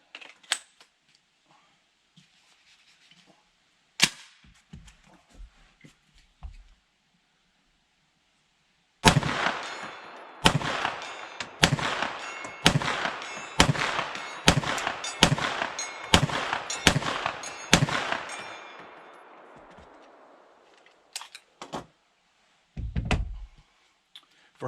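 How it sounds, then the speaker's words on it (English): Foxtrot Mike FMP-9 9mm sidecharger fired at a 100-yard steel plate: about a dozen sharp, loud shots in a steady rhythm, each a crisp crack with a trailing ring, after a few scattered earlier bangs and quiet handling noise. "let's take some shots at the 100-yard plate with the Foxtrot Mike"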